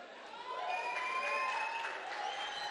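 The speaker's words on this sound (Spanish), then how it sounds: "otro aplauso a Andrés." An audience at the end of a presentation on crypto macro trends bursts into steady, moderate applause that swells after a moment and holds, a dense patter of clapping heard from a little distance.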